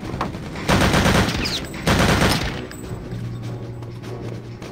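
Gunfire in the VR game Return to Castle Wolfenstein VR on Quest: two loud bursts of rapid fire, each about a second long, followed by a low steady hum and quieter clatter.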